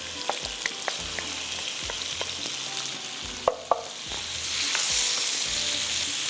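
Green chillies fry in mutton masala with a constant sizzle, and a spoon scrapes and knocks against the pot in a loose rhythm. A few sharper clanks come midway, and the frying swells louder near the end.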